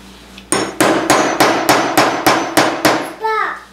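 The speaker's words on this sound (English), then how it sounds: "Okay, I'm going to pound one time." An awl is pounded through paper for bookbinding, giving eight sharp, evenly spaced knocks at close range, followed by a brief high squeak.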